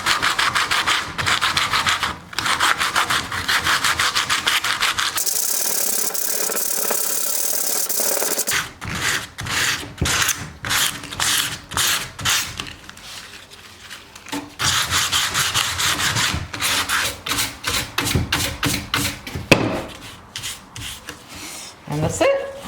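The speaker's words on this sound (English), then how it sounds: "So again, 40 grit, I'll probably go up to 80, but yeah, just shape it and you're good to paint." A fiberglass V-lip for a Mitsubishi Lancer is shaped with 40 grit sandpaper: steady, rhythmic rasping strokes up close, pausing once into a brief softer hiss before the quick back-and-forth scrubbing resumes.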